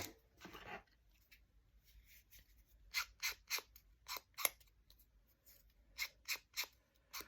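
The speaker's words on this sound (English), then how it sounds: "I'm going to cut these words apart" Scissors snipping through paper to cut words apart, a quiet rustle followed by a run of crisp, separate clicks in small bursts, close and alone without speech.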